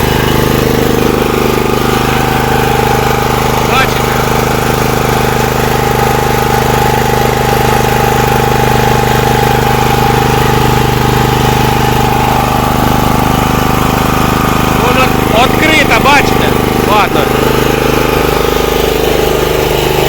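Honda GX390 5 kW petrol generator engine running on gas through a newly fitted gas carburetor, a loud, steady, close drone with constant idle-like hum and no talking.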